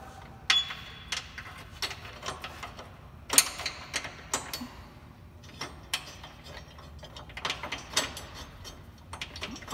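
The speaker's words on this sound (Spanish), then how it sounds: "Dejen poner la tuerca." Metallic clicks and ratcheting taps from threading and turning a nut onto a suspension bushing on a Jeep JL during a lift kit install, irregular and close, with no talking.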